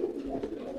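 A pigeon bought from a market gives a brief low coo, soft and near, alone for under a second.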